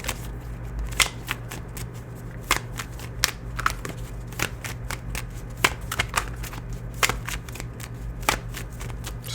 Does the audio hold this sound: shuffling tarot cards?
yes